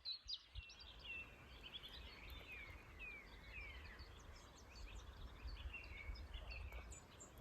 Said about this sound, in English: So it's dusk now and the birds are singing, so we've just been listening to the birds and you can hear them now.